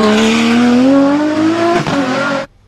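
A toy Bugatti race car gives a loud, continuous engine-like whine with a slowly rising pitch, running steadily for about two and a half seconds before cutting off abruptly.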